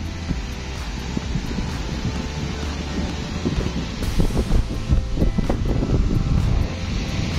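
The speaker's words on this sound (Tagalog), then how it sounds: "Malakas ang hangin." Strong wind buffets the microphone beside the sea, a constant rushing roar with surf washing underneath and gusts building toward the end.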